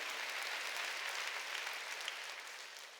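A church congregation at a Sunday worship service applauds, with dense, even clapping that holds steady for a few seconds and then eases off slightly at the end.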